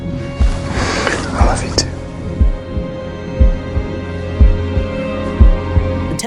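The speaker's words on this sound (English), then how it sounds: "we can hear the beat of what feels like her slowed heartbeat." A slow, heavy heartbeat sound effect in a Daredevil: Born Again TV scene thumps in regular low beats about once per second, steady and close, with a voice speaking over it.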